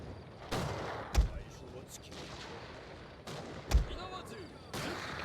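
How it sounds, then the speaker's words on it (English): Musket volleys crack in a Shogun 2: Total War battle, two sharp distant bursts over ambient battlefield noise. "Nice, our guns already gotten out the volley."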